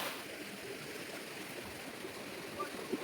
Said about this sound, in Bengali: হচ্ছে আপার ঘাগরি ফলস, দেখে নাও তোমরা।